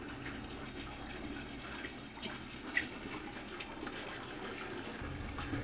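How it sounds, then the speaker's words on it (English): A steady wash of flowing water, faint and continuous, with low rumble underneath and a brief sharp drip partway through. "maybe there's water flowing back behind there."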